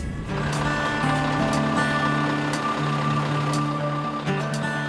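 A Scania stock truck reversing on a cold rural New Zealand morning, its steady engine drone and low rumble running throughout with repeated tonal beeps riding over it.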